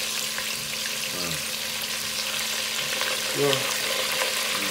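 Potatoes go into hot oil for a chicken and potato roast, a steady crackling sizzle throughout, with a few brief clinks and stirring scrapes and a short spoken word.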